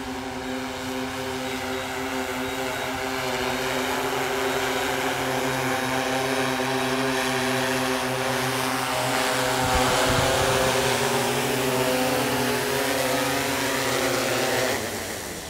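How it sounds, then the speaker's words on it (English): A DJI M200 drone landing, its propellers giving a loud, continuous droning hum with steady harmonic tones throughout, close by and alone. "Once your flight plan is finished, the drone will return home. Currently, we're in the process of landing."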